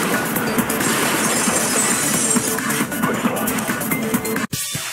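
A vase shattering in the video game Danganronpa, heard as a dense, loud crash of breaking glass and ceramic that fills the whole span with scattered bright fragments, then cuts off sharply near the end.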